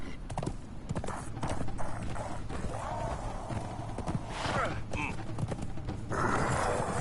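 Horse hooves clip-clop in the video game Conan Exiles, a steady galloping rhythm close by, with occasional louder thuds and game sounds layered over it.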